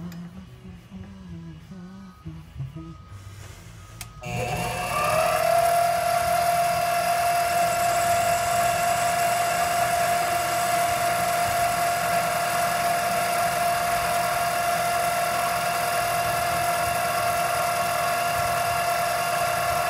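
A metal lathe spins up and faces the ends of an ebonite stem rod, a steady close machine whine with a sustained tonal hum that holds evenly for about fifteen seconds after a quieter start.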